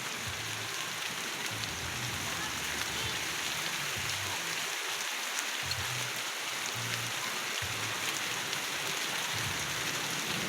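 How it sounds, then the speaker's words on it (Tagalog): Heavy rain pours steadily outdoors, a dense continuous hiss of drops with no break, even and unvarying throughout. "Kusog ang ulan mga kabingbing."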